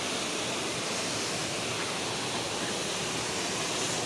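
Borwal waterfall roars outdoors as a steady, loud, unbroken wash of falling water, close by and constant with no voices over it.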